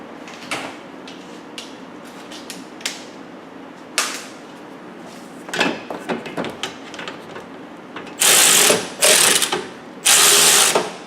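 A socket ratchet works on a radiator bolt of a 2005 Kia Sedona, scattered clicks and clatter of tools giving way to rapid, close, loud bursts of ratcheting pawl clicks near the end.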